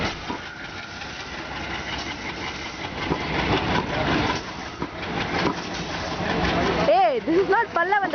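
An Erode-based WDM2 diesel locomotive hauls the Tirupati-Nagercoil Express out of Srirangam, its engine a steady, loud rumble with hiss that builds as it departs. Voices talk over it, and a horn-like tonal call sounds near the end.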